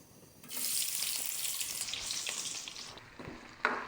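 Chopped onion dropped into a little hot cooking oil, bursting into a bright, close sizzle that holds steady and then crackles on, with a sharp clatter near the end and no talking.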